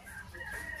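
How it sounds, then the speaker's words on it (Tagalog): A hen clucks briefly in an aviary, faint and somewhat distant, with a short steady call and no talking. "Tapos dito yung hen"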